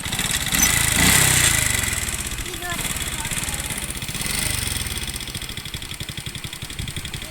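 A motorcycle engine runs after a new spark plug is fitted, with a close, pulsing putter that swells in revs twice and settles to a steady idle, and voices talk over it.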